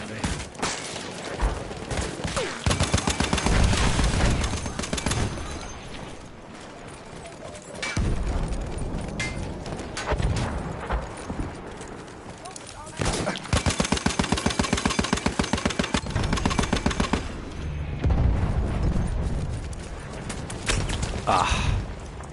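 Bursts of rapid automatic gunfire in a video game, loud sustained volleys with brief pauses between them, mixed with game effects and a voice talking over it.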